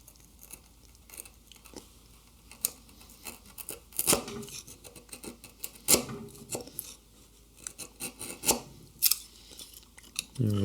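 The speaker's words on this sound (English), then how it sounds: "So I'm going to try to find the baseline knife line with my chisel." A chisel pares wood at a dovetail baseline, giving quiet, close, irregular slicing and scraping strokes with some crisper cuts spread through.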